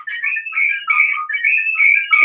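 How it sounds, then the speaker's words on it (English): Someone whistles a wavering, bright tune in short, connected phrases, close and clear, with no talking. "That sounds like whistling."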